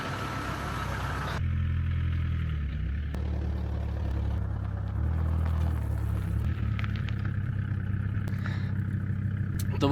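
Engine of a 25-year-old Volkswagen T4 van rumbling steadily at close range while reversing, a low continuous drone with slight shifts in pitch and no talk over it.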